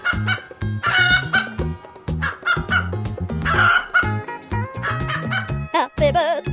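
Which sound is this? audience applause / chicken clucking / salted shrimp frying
chicken clucking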